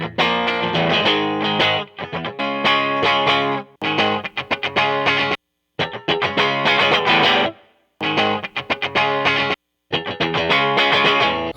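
Clean electric guitar through an AC30 amp simulation with an impulse response, strummed chords in rhythmic bursts separated by short silences, loud and close, no talking.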